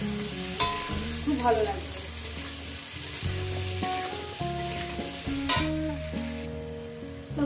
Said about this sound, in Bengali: এবার আলুটাকে সুন্দর করে মিনিট 5 ধরে ভালো করে ভেজে নেব